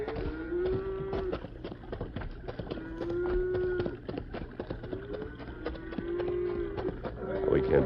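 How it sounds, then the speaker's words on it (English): A herd of cattle moves along a riverbank at night, several cows mooing in long drawn-out calls over a busy patter of hooves, the lowing repeating every second or two with faint voices underneath. "You hear that herd of cattle?"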